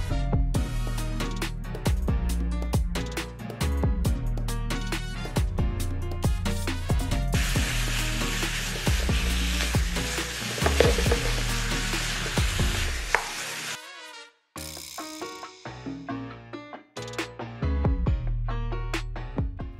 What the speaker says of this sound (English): add 1 pound of ground beef and cook until brown